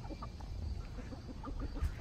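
Oriental game chickens of the quip tie type cluck softly and repeatedly in a coop, a scattered murmur of close low clucks over steady background noise, with no talking.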